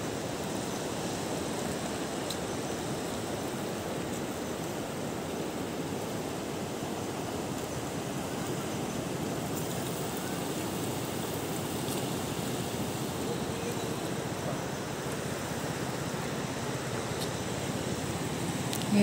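Rough water and surf churn steadily as a strong wind blows over the rising tide, a continuous broadband roar with no pauses and no voices.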